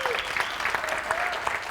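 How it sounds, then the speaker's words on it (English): Keynote audience giving a round of applause, a short burst of clapping with distinct individual claps, close and moderately loud, with a voice briefly audible underneath. "Give John a nice round of applause"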